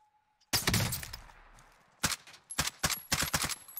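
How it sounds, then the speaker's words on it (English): Sharp, loud gunshot cracks from a Call of Duty Warzone match, one big shot followed by several separated bursts of sharp reports, over quiet pauses. "Shot him in the head and got a hit marker."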